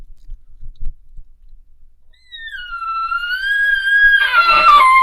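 A hunter imitates an elk call at low volume: a rising, whistling squeal with clear overtones swells and then breaks into a raspy, grunting finish, after a few faint clicks in near silence.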